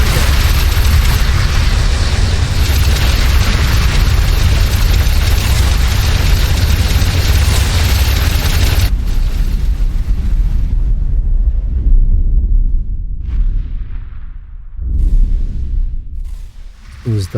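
Heavy missile explosions in the space game X4 Foundations: a loud, dense rumbling barrage for about nine seconds, then sudden quiet broken by scattered booming blasts that trail off.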